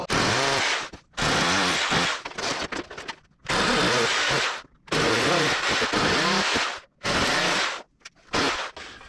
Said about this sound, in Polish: i wiertłem na wiertarce udarowej, wiertłem szóstką, jadę wszystkie otwory